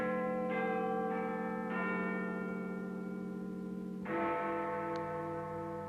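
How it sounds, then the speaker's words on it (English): Bells of a neighboring church ring out the quarter chimes, several sustained resonant strikes in succession with long ringing overlapping tones, clear and moderately loud, with no voices. "the chimes of a neighboring church struck the 4 quarters"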